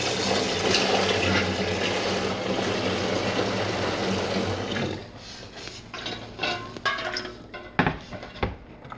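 Water poured into beer yeast slurry in a container for rinsing, a steady close splashing gush for about five seconds that stops, followed by scattered drips, clinks and small handling knocks.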